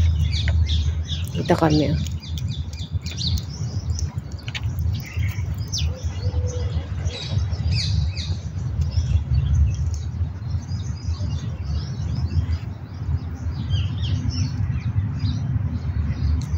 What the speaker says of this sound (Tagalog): Sarap sa pakiramdam pagka yung mga ibon lang ang naririnig mo.